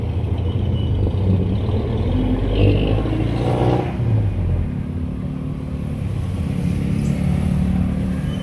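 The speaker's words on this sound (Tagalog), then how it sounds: "Tapos sakay na ulit tayo ng tricycle." Ride aboard a motorized tricycle moving through traffic near Nasugbu, a loud, close engine rumble with revving swells over steady road noise, no talking.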